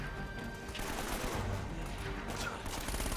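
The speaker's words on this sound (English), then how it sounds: "Shot him in the face" Rapid gunfire from the video game Uncharted: Drake's Fortune, a dense fusillade of shots crackling over a busy battle mix with steady loudness throughout.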